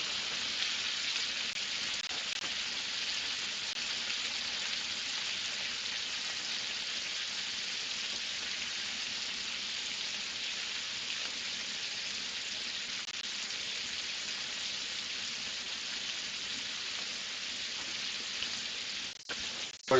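Ribeye steaks searing in a hot pan, a continuous bright hiss and crackle of fat that holds steady and close throughout, with a couple of sharp clanks of the pan near the end.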